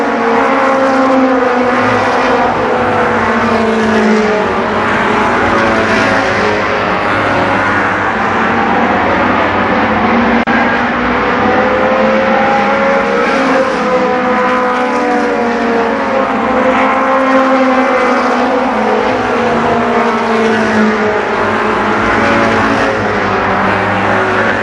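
Race cars roar around the Columbus Motor Speedway oval at a fall Speedfest event, a loud continuous pack of engines droning and shifting pitch as they circle, with no break in the noise.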